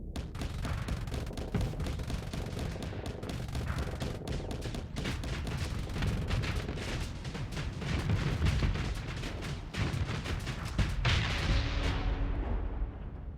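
Dense, continuous rapid gunfire and artillery-like thumps from the space combat game Starsector, loud and layered throughout, with scattered impacts and a fading rumble at the end.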